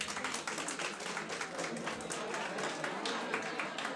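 Audience applause at a philosophy review session, a steady patter of many hands clapping together for a few seconds, moderately loud and even throughout.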